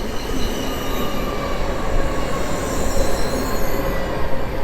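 An ED250 high-speed train runs through Warszawa Zachodnia station with a steady loud rumble and a thin squeal from the wheels that lasts the whole stretch, and no voices are heard.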